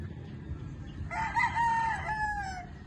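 A Kelso gamefowl rooster crows once, a clear drawn-out cock-a-doodle-doo starting about a second in over low background rumble, fairly close.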